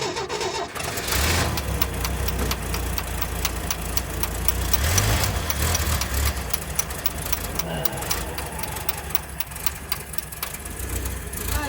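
Engine of a 1979 Ford High Boy truck running roughly after a start, a loud, close, uneven rumble with throttle swells and clattering ticks throughout, with brief voices in the background.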